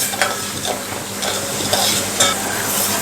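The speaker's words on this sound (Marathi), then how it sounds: "साखर जोपर्यंत विरघळत नाही तोपर्यंत आपल्याला असं ढवळत राहायचं आहे" A spoon stirs sugar syrup in a pot to dissolve the sugar for wheat-flour khaja, giving a steady scraping swirl with a few sharper clinks against the pan, close and alone without any voices.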